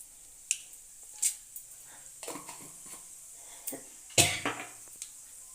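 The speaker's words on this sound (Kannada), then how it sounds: "ಎಣ್ಣೆ ಕಾದಿಸಿ ಚಿಟಪಟ ಅಂತ ಇದೆ ಸಾಸಿವೆ" Mustard seeds crackle and pop in hot oil for tempering, sparse sharp snaps scattered irregularly, some louder, over a quiet background with no talk.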